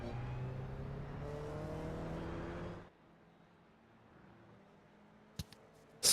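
Race cars run at Virginia International Raceway in the iRacing simulator during a ChampCar endurance series round, a steady loud engine drone that cuts off abruptly midway, leaving near silence broken by a couple of brief clicks.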